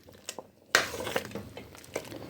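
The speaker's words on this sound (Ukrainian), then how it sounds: "І знову все перемішуємо, виварюємо." A spoon stirs tomato sauce with fresh parsley in a pot, giving soft scraping and a sharp clack against the side followed by gentle wet swishing and light taps, close and fairly quiet.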